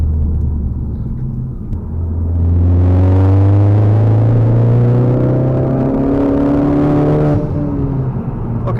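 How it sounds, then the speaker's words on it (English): A Ford Focus ST Mk3 with a Stage 2 tune pulls hard in 4th gear, its engine note rising steadily in a loud, close, droning rumble for several seconds before easing off. "Let's do one more 4th gear pull."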